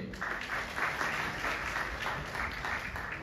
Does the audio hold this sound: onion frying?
no